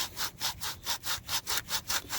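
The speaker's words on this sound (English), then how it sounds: "I got the sanding block all set up here" Rhythmic back-and-forth rasping of a sanding block on an FJ Cruiser steering wheel, about ten even strokes, close and clear with no talking.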